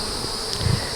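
A steady, dense buzzing of many honey bees around a hive in a bee yard, close and continuous.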